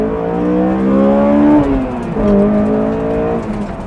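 A race car engine warming up before a drift battle, revving and easing off in smooth rising and falling sweeps, close and loud, with a dip midway before climbing again.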